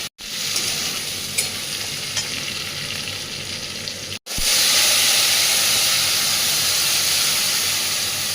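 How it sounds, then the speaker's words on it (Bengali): Papaya and potato curry sizzles and fries steadily in a pan with turmeric, a continuous hissing fry that drops out briefly twice and returns louder and more intense for the second half. "এটা ভালো করে ফ্রাই করে নেবে"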